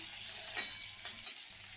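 Chopped tomato drops into hot oil already tempered with spices, a faint, steady sizzle with a couple of light stirring scrapes, close and alone.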